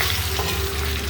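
Mango pickle is stirred in a hot pan, giving a brief, steady sizzle and scraping texture up close.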